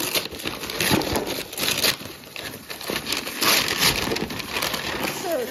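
Gift wrapping paper is torn and crinkled open for New Year presents, a continuous close rustling and ripping that runs steadily without pause.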